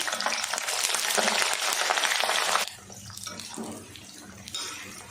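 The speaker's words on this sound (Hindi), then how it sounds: "तो सेम तरीके से हम गोभी भी फ्राई कर लेंगे।" Cauliflower florets frying in hot oil in a home kitchen: a loud, dense sizzle for a few seconds that drops suddenly to a softer, uneven crackle with bubbling bursts.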